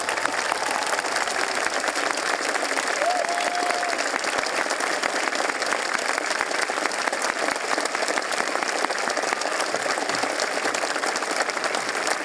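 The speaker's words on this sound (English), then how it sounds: "accept our thanks and our applause." Sustained, dense applause from a large high school graduation audience honoring military members, steady and loud throughout with a faint whistle partway through.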